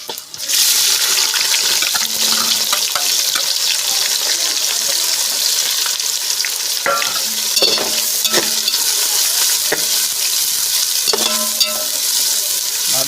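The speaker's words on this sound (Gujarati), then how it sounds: "ડુંગળીને આપણે તેલમાં થોડીક ફ્રાય કરી લઈશું" Chopped onion frying in oil with cloves, cinnamon and spices for dal tadka, a loud steady sizzle starting abruptly and continuing close up, broken by occasional stirring clatters.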